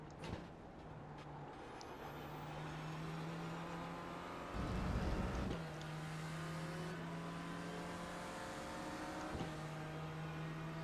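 A PCC Renault Clio race car in iRacing on the Sebring circuit, its engine drone humming steadily with a brief burst of louder roar and rumble as another car passes close by.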